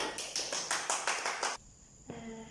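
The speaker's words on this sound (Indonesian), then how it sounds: "Benar, tepuk tangan." Primary school students in a classroom clap hands in a quick, rhythmic pattern of about seven sharp claps, fairly close, followed by a short pause and a faint ringing tone.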